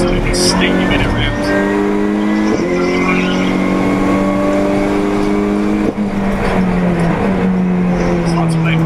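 Race cars at a circuit during a race sweep past with sustained, rising and falling engine tones, loud and continuous, one pass blending into the next beneath steady commentary talk.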